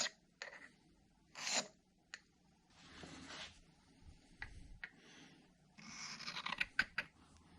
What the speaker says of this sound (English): I did want to go ahead and hone the edge a little bit better